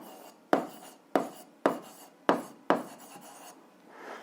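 Five quick scratchy strokes of a pen on paper, each a short rasping burst with brief pauses between, close and fairly quiet, no talking.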